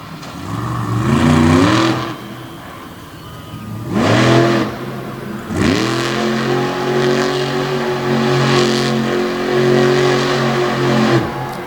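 The Bigfoot monster truck, a retro-bodied truck with chrome, revs its engine hard at a night monster truck show at the Motor Mile in Radford; loud, close, repeated roaring surges over a steady, throaty idle.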